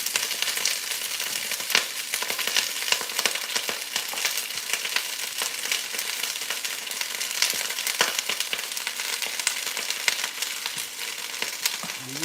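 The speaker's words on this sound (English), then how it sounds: "And fry this cabbage up." Shredded cabbage fries in hot grease with a steady, bright sizzle and crackle, continuous and close throughout, dotted with small pops and spatters, no voices.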